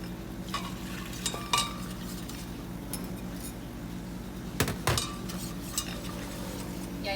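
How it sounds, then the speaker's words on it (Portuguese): A utensil stirs vanilla cream in a pan over low heat, with soft scraping strokes and a few sharp clinks against the pan over a steady low hum. "Agora no fogo baixo, eu vou mexer até ele engrossar."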